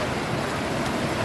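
Strong ocean waves wash onto a beach where people are swimming, a steady, dense roar of surf and wind with no voices.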